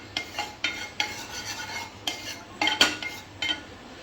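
Ghee melts in a pan while a spoon stirs it, giving a series of light scraping clinks against the metal over a faint low sizzle, close and with no talking.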